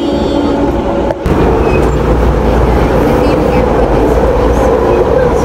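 Airport Express train in Taiwan rolling along, a loud steady low rumble with a brief dip near the start, heard from inside the carriage.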